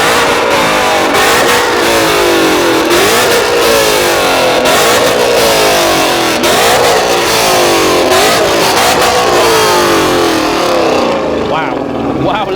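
Supercar engines roar and rev loudly at a car show sound-off, with repeated rising and falling revs layered over one another and crowd noise in the background, continuing for several seconds.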